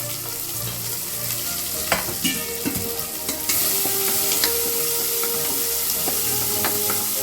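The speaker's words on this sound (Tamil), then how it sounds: "வெங்காயம் போட்டுட்டு நல்லா வதக்கிடலாம்" Onions sautéing in hot oil with fennel seeds for a Tamil mutton thokku, a steady close sizzle and fry with occasional stirring scrapes and clicks, growing slightly louder partway through, with no talking.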